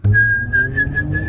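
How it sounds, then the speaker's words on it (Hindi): Someone whistles a short steady tune, a single clear sustained note line held for about a second and a half, close and alone with a low hum underneath. "सीटी बजाते हुए, गाना गुनगुनाते हुए"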